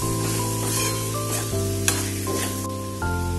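Green peas sizzling and frying in a pan while being stirred for a Maharashtrian matar bhaji, a steady close sizzle running throughout with a couple of sharp utensil clinks against the pan and no talking.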